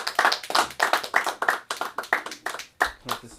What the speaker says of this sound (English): for the next comedian, everybody, round of applause.